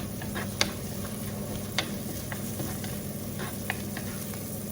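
Onion, chili and curry leaves sautéing in oil make a steady, moderate sizzle close by, dotted with occasional light clicks of a utensil against the pan.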